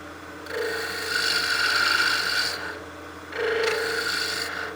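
A skew chisel rounds over a small spinning wood blank on a lathe for a mini mushroom ornament, giving two close, rasping scraping passes separated by a short lull.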